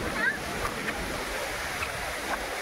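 Rushing water of a waterfall near Panvel, a steady broadband roar heard from nearby with a few faint splashes on top.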